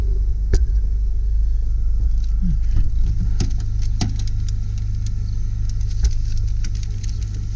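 A 2000 Jeep Cherokee with a 2.5L four-cylinder engine and 125,000 miles idles steadily, a loud continuous low rumble with a few faint clicks and knocks on top and no talking.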